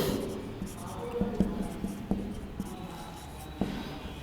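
Pen or marker writing on paper during a Bengali math lesson on pond and bank dimensions, with faint scratchy strokes and a few soft taps. Someone speaks throughout over the writing.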